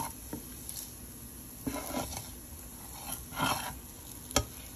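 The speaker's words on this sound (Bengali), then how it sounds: "এখন দুটোতে মিলে নাড়াবো আমি ভালো করে নাড়াবো" Chhana, a fresh cottage cheese, stirred in a hot pan, with soft wet scrapes and squelches in several uneven bursts over a low sizzle, close and without speech.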